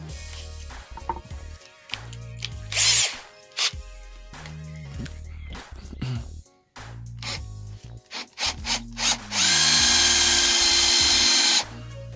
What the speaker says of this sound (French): Je perce avec une mèche de 4. Vous allez voir que ça perce vraiment sans difficulté.